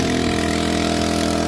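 Grass cutter engine running to drive a water pump, a loud, constant mechanical hum with a steady idling tone, close and uninterrupted for the whole short stretch.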